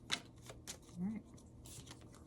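Tarot cards are gathered and shuffled back into the deck in a few short, soft riffles and taps, close and quiet, with a brief vocal murmur partway through.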